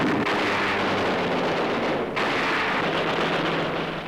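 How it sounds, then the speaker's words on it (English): Continuous heavy rumbling blasts, dense and loud, from a World War II air raid on Japanese positions in the Philippines, with a sharp burst partway through as an anti-aircraft tower is blasted. "An anti-aircraft tower is blasted."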